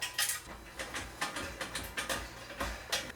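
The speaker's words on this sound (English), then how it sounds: "screws are going to go through those 2 holes and mount the new thermostat to the unit, to the element." Screws being fitted by hand to mount a new thermostat onto a clothes dryer's heating element. The result is a string of faint, close metallic clicks and small scrapes in an irregular rhythm.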